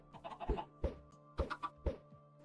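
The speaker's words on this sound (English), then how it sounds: "We have so many chickens in this hole." Chickens in Minecraft Bedrock Edition cluck in a quiet, close series of short, rhythmic clucks, about four distinct bursts within a couple of seconds, with no talking over them.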